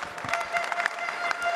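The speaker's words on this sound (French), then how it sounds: "Vous pouvez vous applaudir" Audience at a pastry world cup prize ceremony applauding, a light scattered patter of clapping with a few sharper hand claps rising over a soft room murmur, moderately faint and uneven.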